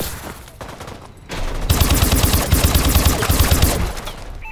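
Rapid automatic gunfire from an inaccurate gun in Call of Duty: Advanced Warfare, a loud sustained burst of shots after a quieter start.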